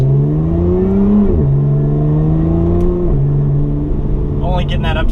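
A 2017 Lotus Evora 400 engine revs to about 4,000 RPM, loud and close. Its note climbs, drops, then climbs and falls again in two clear pulls, and a voice joins briefly near the end.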